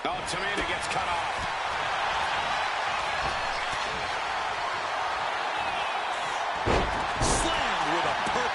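A wrestler's slam impact from the WWE 2K25 video game lands amid constant loud arena crowd noise, with a sharper thud near the end and commentators talking over the action.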